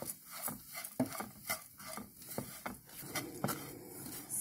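Vadagam frying in a pan of coconut oil over low heat, in oil left from sautéing coconut: a soft, steady crackle with light scraping and stirring clatter, fairly quiet, no talk.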